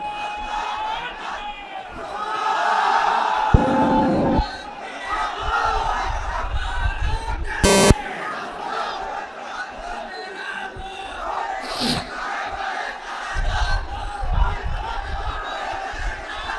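A large religious gathering roars a takbir chant back in answer, massed voices rising in loud bursts that swell and fade, with a lone voice leading between the responses.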